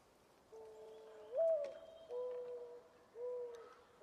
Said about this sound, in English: That bird is the bird from Bloodborne.